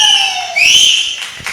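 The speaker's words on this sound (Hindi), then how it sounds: "सीटी बजा दिया।" A whistle is blown in a Chembur gathering, a shrill descending blast followed by a second rising tone, fairly loud and close, with faint crowd noise around it.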